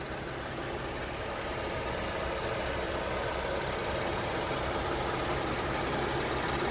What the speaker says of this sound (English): Very nice and smooth running engine.